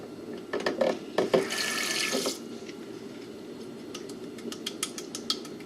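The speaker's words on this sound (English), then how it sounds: "I'm going to go over to the sink and I'm going to wet it, fill up the plate with water" Water from a sink tap splashes for a couple of seconds as a plate is filled for papermaking, followed by quieter handling and light tapping sounds close by.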